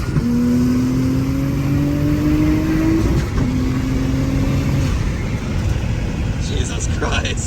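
Turbocharged car pulling hard at high boost on a freeway, engine and turbo whine rising through two gear pulls with a brief dip between, loud interior road roar throughout and people talking over it.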